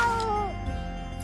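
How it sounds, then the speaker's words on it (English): Gary the snail from a Nicktoons video game gives a single drawn-out, clear meow that slides downward in pitch, close and alone with a faint background hum. "Meow meow."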